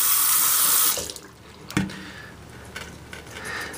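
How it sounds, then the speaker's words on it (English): A kitchen sink tap runs loudly while a dirty hand is rinsed under it, then the flow cuts off, leaving a few splashes and drips in a quiet room. "I'm going to rinse the extra dirt off my hand."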